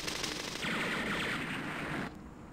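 Sustained gunfire from a half-track in a Middle East war strategy game, a dense rattling burst with a high whine that cuts off abruptly near the end, no talk over it.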